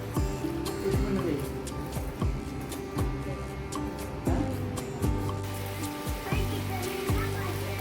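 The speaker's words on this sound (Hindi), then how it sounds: "चलिए, बारिश शुरू हो गई।" Rain beginning to fall on a hot afternoon after a heatwave, with irregular drops pattering and tapping on surfaces close by over a steady wet background, some thuds recurring every second or so.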